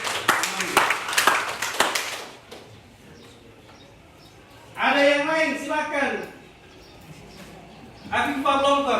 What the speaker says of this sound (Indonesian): Beri aplaus untuk